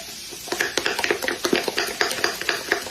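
An egg being beaten into cornbread batter with a utensil, giving quick rhythmic scraping clinks against the bowl, close and steady with no talk.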